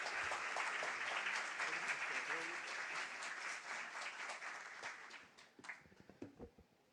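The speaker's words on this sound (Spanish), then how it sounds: "Lo recibimos con un fuerte aplauso." Audience applause at a campus event in Santo Domingo. A dense clatter of clapping is heard from a hall, fading out over several seconds until only a few scattered claps and small noises remain.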